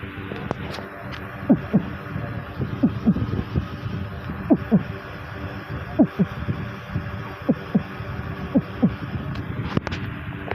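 Beatboxed heartbeat imitation, a voice mimicking paired lub-dub thumps in a steady repeating rhythm, about seven double beats over a low background hum, close and moderately loud.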